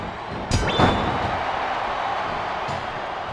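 A capacity arena crowd in the wrestling video game Smackdown vs Raw 2008 gives off a steady, dense roar, with a couple of heavy thuds early on and the noise holding level afterward.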